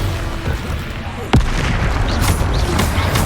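A sudden booming blast from the Bombarda spell in Hogwarts Legacy breaks through mid-clip, followed by crackling debris and lingering rumble over a steady game background.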